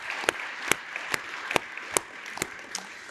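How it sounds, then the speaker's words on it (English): An audience applauds at a university lecture event, with rhythmic, evenly spaced claps ringing out in a moderately loud, roomy burst of a few seconds. "Let's give Asha a round of applause."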